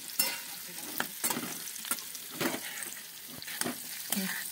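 Pointed gourd (parwal) frying in a kadhai, with a continuous sizzle broken by regular sharp stirring scrapes about once a second, close up and without talk.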